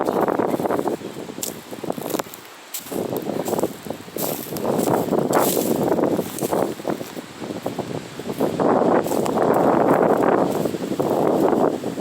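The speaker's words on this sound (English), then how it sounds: "It's a little windy here in Oklahoma today." Strong gusty wind buffets the microphone on a windy day in Oklahoma, a loud continuous roar that swells and eases in waves, dropping briefly into a lull before rising again.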